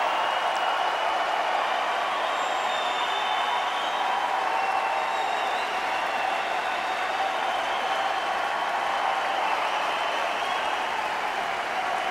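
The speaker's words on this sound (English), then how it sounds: "Listen to the applause for Olivier Rochus." Sustained applause from a tennis crowd at Wimbledon for Olivier Rochus, a steady unbroken wash of clapping that holds at an even level from start to finish with no voices on top.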